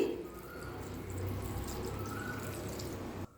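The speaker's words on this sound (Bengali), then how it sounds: "এবার প্রথমেই এর মধ্যে অল্প জল দিয়ে দিচ্ছি" Water poured onto tamarind in a bowl while making tamarind pickle, a faint, steady trickle and patter up close, ending abruptly.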